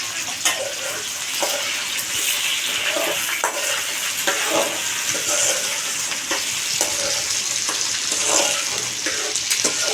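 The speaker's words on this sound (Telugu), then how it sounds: "బెండకాయలు అనేవి కూడా కొంచెం దోరగా అనేవి ఫ్రై చేసుకుంటామండి" Okra fries in hot oil in a pan, giving a continuous bright sizzle broken by repeated scraping and clicking as the pieces are stirred, with no one talking.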